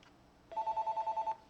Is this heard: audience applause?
no